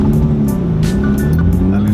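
A Nissan G35 with a newly installed Z1 transmission mount drives along, its engine a loud steady drone heard from inside the cabin, with a voice speaking over it.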